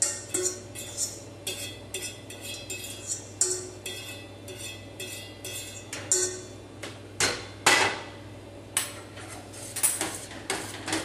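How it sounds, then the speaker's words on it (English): A utensil stirs cooked vegetables into a gluten- and dairy-free alfredo sauce in a pan, producing close, regular metallic clinks and scrapes at a steady, rhythmic pace over a low hum. "And so just stir them right in there."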